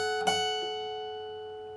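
An electric guitar sustains a single clean, bright note from a guitar solo after a crisp pick attack, followed by a lighter second pluck, ringing steadily and alone.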